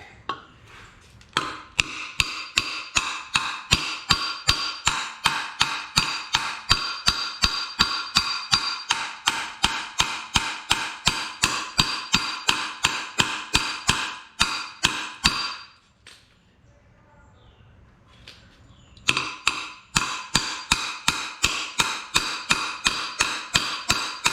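Rapid, steady hammering with a small hammer on the metal clip of a 1965 VW Beetle hubcap, loud sharp taps in a continuous rhythm with a short pause before the blows resume.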